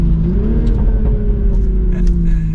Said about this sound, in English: And a mild acceleration, you can hear some of those pops.